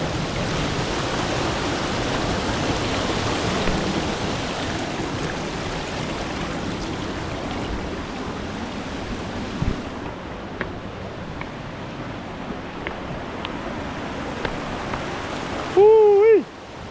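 A river flows with a broad steady rush of water, loud at first and easing later, with a brief tonal sound near the end.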